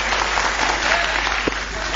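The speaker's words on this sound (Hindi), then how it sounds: "ऐसे ताली बजती है" Audience clapping, a steady wash of many hands filling the whole moment at an even, continuous level with no voices over it.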